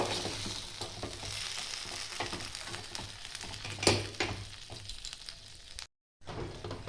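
Jujube pickle with a little water being stirred in a pan, continuous quiet sizzling with scattered spatula scrapes and one sharper knock, then a short silent break and the sizzle again.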